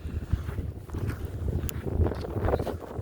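Wind buffets the microphone outdoors during a fishing trip, a rough low rumble that surges and fades in gusts and stays fairly loud throughout, with no talking.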